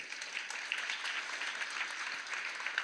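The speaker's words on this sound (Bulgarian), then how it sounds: "Аплодисменти за голямото жури." Applause for a jury at an event honoring young people, a dense crowd clapping steadily and evenly throughout, loud and close, with no voices rising above it.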